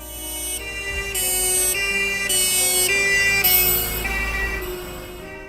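An ambulance siren sounds loud and steady, alternating between two high tones in a regular hi-lo pattern over a low vehicle rumble.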